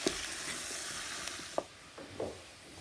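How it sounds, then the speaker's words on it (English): Cubes of squash or pumpkin are being stirred in a pan for an autumn squash and chestnut soup, giving a soft, steady sizzling hiss with a few faint scraping clicks from the stirring. "I am going to just sort of stir the cubes of squash or pumpkin so that I get a little coating"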